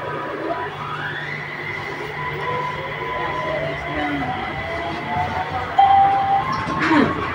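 A Singapore MRT train pulls away from a station platform, its motor whine rising in pitch over a steady rumble, with brief squeals near the end and people talking nearby.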